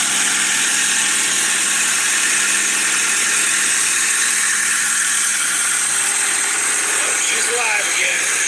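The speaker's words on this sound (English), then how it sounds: "Got the backhoe running after it's been sitting for like 8 months." A 1989 Case 580K backhoe with a 4BT Cummins diesel, just started after sitting eight months, idles loudly and steadily with a rough mechanical rattle and a faint squeal, sustained throughout.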